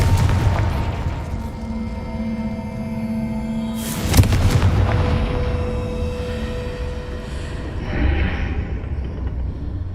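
Confringo explosion spell cast in the video game Hogwarts Legacy, a sharp booming blast near the middle that rings out over a dense bed of game music and effects, with a smaller burst later.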